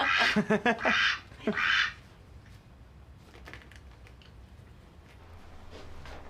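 A duck quacks several times in quick, loud bursts up close, then falls silent over a low background hum.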